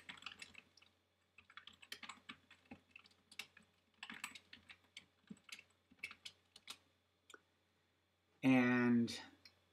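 Code being typed on a computer keyboard, with steady bursts of close, light key clicks and short pauses, followed by a brief burst of a voice at the end.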